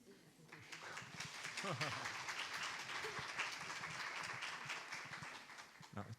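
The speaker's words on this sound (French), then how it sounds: "Très bon public, vous applaudissez déjà, merci." An audience applauds at an author meeting: dense, steady clapping fills the room for several seconds, with voices talking over it.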